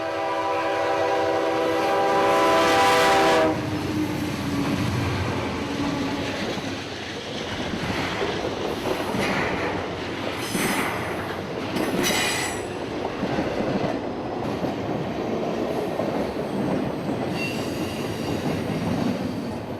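A southbound CSX freight, Q141, rolls down into a siding at Austell, Georgia, with loud rumbling cars and sharp wheel squeal, and a horn sounds early before the train keeps grinding past nearby.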